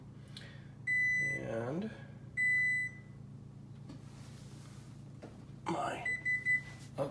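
A home oven timer beeps in a kitchen while a frittata is being prepared, repeated bursts of steady high electronic tones in short groups, moderately loud, with brief talk between them.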